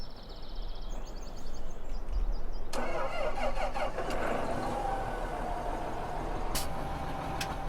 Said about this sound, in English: I'll get out of the tractor and start it up again so you guys can hear the startup sound